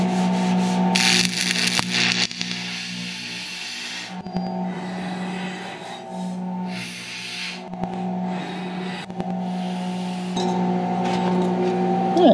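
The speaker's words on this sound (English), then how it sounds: "I'm just gonna weld it." A cracked bell housing on a John Deere 110 backhoe is welded, giving steady crackling, hissing bursts over a constant machine hum, with short pauses between passes.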